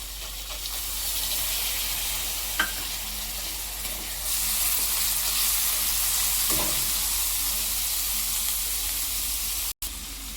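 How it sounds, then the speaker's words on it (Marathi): Thecha chili paste and chana dal sauté in a hot pan with a loud, even sizzling hiss that holds steady throughout, brightening midway, with a couple of soft stirring scrapes and no talking. "ठेचा एक ते दोन मिनिट आपण परतून घेणार आहे आता याच्यात आपण हरभऱ्याची डाळ टाकू"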